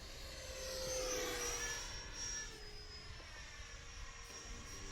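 Freewing 70mm F-22 Raptor RC jet with an electric ducted fan flying overhead: a steady whining roar with a rising, shifting pitch that swells around the first two seconds as it passes, then holds at a moderate distance.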